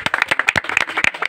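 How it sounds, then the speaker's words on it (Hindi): A small group claps for Anand Manawat in a brief, close burst of uneven, sharp handclaps with no voices over it. "उनके लिए जोरदार तालियां बजना चाहिए"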